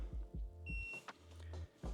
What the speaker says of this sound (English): As you can hear it beep, it just turned on.